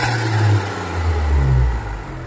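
A Perodua Kancil engine runs steadily after a fuel pump repair, giving a close, continuous low rumble with gentle swells and a slight drop near the end, with no voices.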